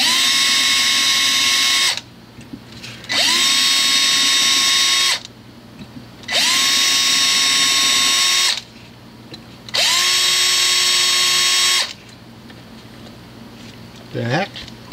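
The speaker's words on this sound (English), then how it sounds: "I can tell you guys want to hear the drill." A power drill, used while installing Grover guitar tuners, whirs in four steady bursts of a few seconds each, spinning up and cutting off with short pauses between, loud and close.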